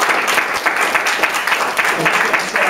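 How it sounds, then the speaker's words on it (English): An audience at a talk gives a short round of applause: a brisk burst of many hands clapping, close and continuous for under three seconds. "Kind of give him a round of applause."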